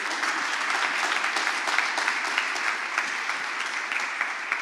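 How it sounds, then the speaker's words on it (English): Sustained audience applause fills an open day event for an energy startup programme, a dense, even wash of many hands clapping at steady loudness throughout, with no talk over it. "A big, big round of applause for them."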